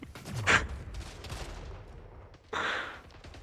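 Gunfire in a first-person shooter video game comes as two short bursts, one near the start and one a couple of seconds later, each fairly loud against a quiet background.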